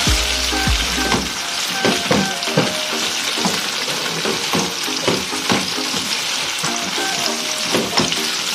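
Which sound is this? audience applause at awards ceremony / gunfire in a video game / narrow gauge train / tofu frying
tofu frying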